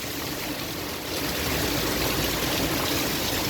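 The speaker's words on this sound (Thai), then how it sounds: "ดูน้ำไหล" Rainwater streams and trickles steadily during a heavy downpour at the front of a house with a leaking roof and strong wind, a dense, continuous close-up wash of flowing water with no talking.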